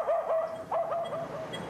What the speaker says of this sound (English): A barking dog breaks the morning silence.